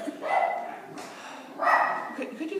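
Dogs bark in a couple of bursts, close and fairly loud, with a person talking over and between the barks in a home setting.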